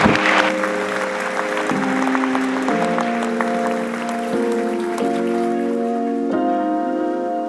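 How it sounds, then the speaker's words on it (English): Conference audience applauds the panel on stage at a forum on people, wildlife and the planet; steady broadband clapping runs throughout beneath sustained music. "Can I get a round of applause for everyone on stage, please?"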